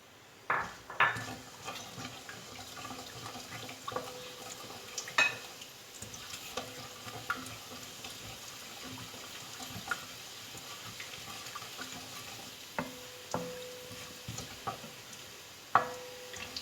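Cumin, carom seeds and asafoetida fry in hot oil in a wok, giving a soft, steady sizzle with occasional small clinks and stirring taps, faint and without talk.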